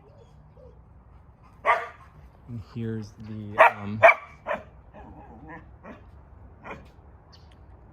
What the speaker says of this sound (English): bark until the dogs are gone.